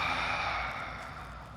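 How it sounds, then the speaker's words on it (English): A long, deep exhale during a yoga breathing exercise, a steady breathy rush that fades slowly, close and alone with no talk. "Exhale."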